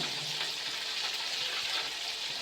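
Pieces of rui fish fry in hot oil in a pan, a dense, steady crackling sizzle that stays close and constant throughout, with no speech.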